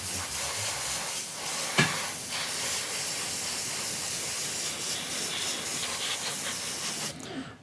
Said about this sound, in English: much easier with an airbrush.